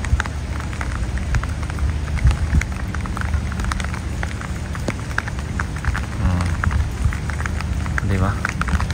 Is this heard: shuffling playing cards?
no